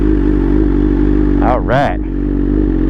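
A 2021 BMW M1000 RR superbike engine idles steadily and loud up close, with a brief throttle blip swelling and dropping near the middle while someone speaks a couple of words.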